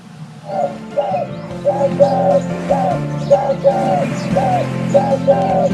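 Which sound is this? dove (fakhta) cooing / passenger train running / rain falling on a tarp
dove (fakhta) cooing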